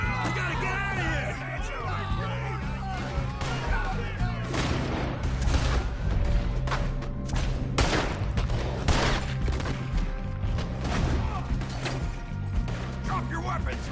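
Gunfire erupts during a Red Dead Redemption 2 shootout, a dense run of sharp shots and cracks over a low rumble, with people shouting and talking amid the firing.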